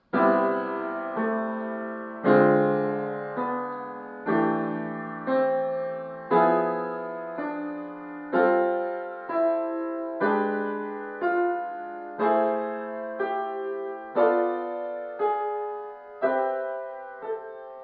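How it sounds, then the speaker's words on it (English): A sequence of about fifteen piano chords, each struck and left to decay, climbing steadily upward through the sixth diminished scale at an even, unhurried pace with no talking. "So if I go up the 6th diminished scale like this, it looks and sounds like this."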